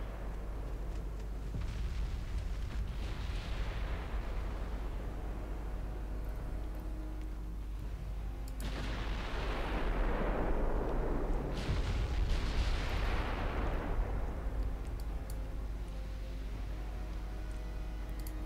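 Warship gunfire in the naval game Ultimate Admiral Dreadnoughts: deep booming salvos from big guns, a couple of broad rumbling blasts rolling over a steady low engine-like drone, heavy and continuous.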